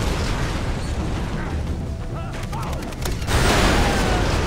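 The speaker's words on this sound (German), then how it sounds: "Jetzt schieß doch!" Dense bursts of gunfire from the video game Far Cry 3, a rapid crackling volley within a thick, continuous wash of in-game noise that swells louder toward the end.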